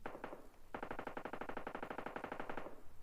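Rapid automatic gunfire in the mobile battle royale game PUBG Mobile Lite, a short burst and then a long steady stream of rounds, loud and close with no talking.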